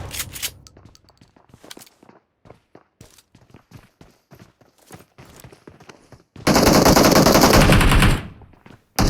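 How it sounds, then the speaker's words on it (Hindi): Shotgun fire in a first-person shooter game, heard as a few sharp shots and scattered footsteps before a loud sustained burst of rapid gunfire near the end. "शॉटगन मिलता है, तो देखो अभी इससे एक बंदे को हेड लेंगे"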